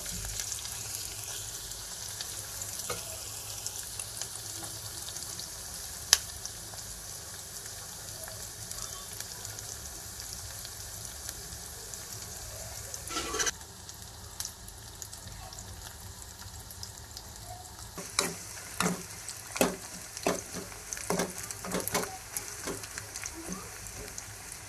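Onions for a curry frying in a pan, a soft continuous sizzle throughout, later punctuated by a series of sharp clicks and scrapes from stirring.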